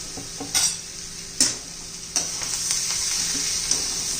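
Homemade masala being stirred into a bitter gourd curry in a pan, with a few sharp spoon clinks against the metal over a soft continuous sizzle and no talking.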